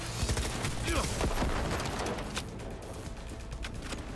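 Rapid gunfire in the Cyberpunk 2077 video game while shooting at enemies, a dense loud burst of shots through the first half that thins into scattered, quieter shots.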